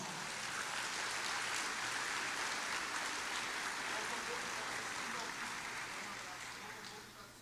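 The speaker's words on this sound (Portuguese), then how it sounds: "Aplauda o Senhor Jesus." A church congregation applauding during a live Portuguese-language worship broadcast, a steady wash of many hands clapping that sounds distant and fairly faint, fading slightly toward the end.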